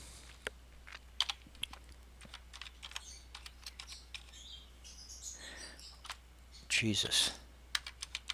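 A password is typed on a computer keyboard in quick, close, irregular runs of key clicks with brief pauses, ending in a few louder taps, and a voice mutters once.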